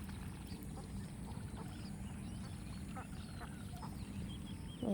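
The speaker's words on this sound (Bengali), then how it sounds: "এগুলো আপনাদের টার্কি মুরগি আর হাঁস?" Ducks and turkey hens on a village farm make faint, scattered quacks and calls over steady outdoor background noise.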